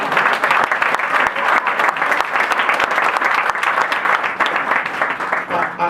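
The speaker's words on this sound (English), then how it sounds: "Now go ahead, you can applaud Dave Madden on that." An audience applauds at a show-business tribute, a sustained wash of many clapping hands that stays moderately loud and even for several seconds, with faint voices underneath.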